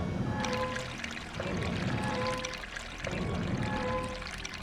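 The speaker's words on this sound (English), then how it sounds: "Water drains, and wouldn't you know it, at the bottom of the pool we have." Water drains out of a pool in Resident Evil Code: Veronica, a steady rushing, gurgling pour that swells in repeated surges over a low rumble.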